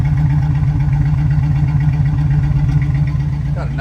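A 1980 Chevrolet Camaro Z28 idles close to the tailpipes, its exhaust putting out a steady, loud, even low rumble with a regular pulsing beat throughout.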